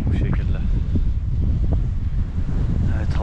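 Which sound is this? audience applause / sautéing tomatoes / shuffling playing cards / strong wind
strong wind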